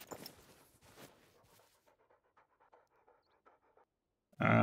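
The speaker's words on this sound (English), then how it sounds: "Dog." Hunting dog in the video game theHunter panting in quick rhythmic breaths, loud at first and then fading into a faint steady pant before a sudden loud burst of noise at the end.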